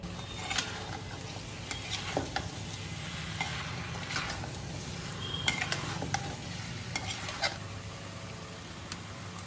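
Mutton pieces sizzle and crackle as they roast in a pan for a mutton korma, a steady low frying hiss with scattered soft pops and occasional scrapes of stirring, fairly quiet and with no talk.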